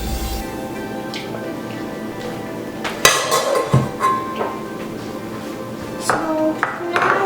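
A whisk works butter and heavy cream in a bowl for French macaron filling, giving sparse, sharp metallic clinks and taps against the bowl over a quiet background.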